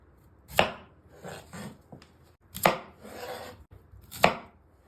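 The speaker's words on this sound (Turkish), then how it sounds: "Öncesinde pancarlarımızın bir bıçak yardımıyla baş kısmını ve uç kısmını alıyoruz." A knife cuts the ends off beets on a board in three sharp, close chops spaced about two seconds apart, with quieter scraping and handling sounds in between and no talking.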